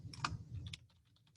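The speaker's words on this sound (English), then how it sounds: "type whatever you need to type" Brief burst of typing on a computer keyboard, a few quick soft clicks at close range, quiet and alone.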